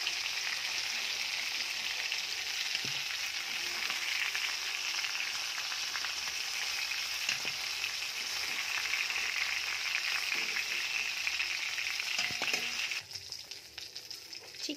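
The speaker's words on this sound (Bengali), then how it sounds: "লাল লাল করে ভাজা হচ্ছে" Chicken frying in a generous amount of oil, browning to a reddish colour: a continuous close sizzle with occasional faint clinks, thinning slightly near the end, with nobody speaking.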